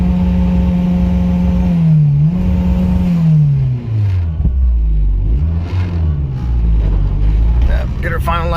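An Acura RSX fitted with a Carrot Top tuning harness idles, then the engine revs up and down in a few swells, close and loud, with a faint voice at the end.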